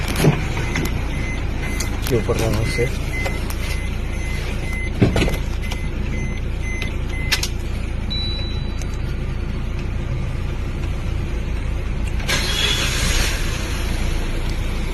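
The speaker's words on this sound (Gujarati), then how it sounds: "ગાડીને સેલ મારીને સ્ટાર્ટ કરીને ચેક કરીએ" A new-model Maruti Ertiga petrol-CNG car with misfiring and low pickup idles steadily and close by after being started, its engine producing a constant low rumble. Someone speaks briefly over it.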